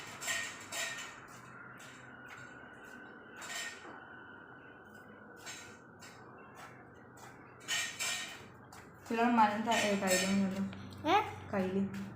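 A knife slices through watermelon in several separate crunchy strokes, close and fairly quiet, followed by a person talking near the end.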